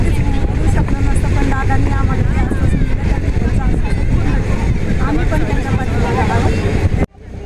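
A helicopter's engine and rotor drone loudly and steadily from inside the cabin during a joyride flight, a dense continuous roar with people talking over it, then stopping abruptly near the end.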